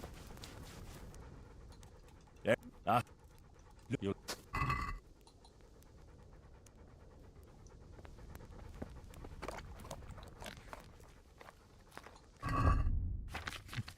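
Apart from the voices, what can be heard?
dog panting in the video game Kingdom Come: Deliverance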